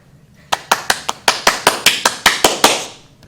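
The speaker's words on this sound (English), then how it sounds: "Now you clap." A school audience claps for ribbon winners in a run of about a dozen sharp, evenly spaced claps, loud and close, fading slightly toward the end.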